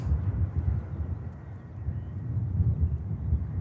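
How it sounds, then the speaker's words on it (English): An EasyJet airliner from Paris touches down at Manchester Airport, heard as a low, steady roar with wind buffeting the microphone. "EasyJet next in. This is the Paris inbound. Early touchdown."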